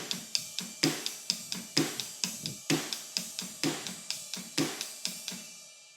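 A drum kit plays a steady verse groove led by the ride cymbal, with bass drum and snare underneath and no snare variation, each stroke crisp and close in a regular, unbroken rhythm with no voices.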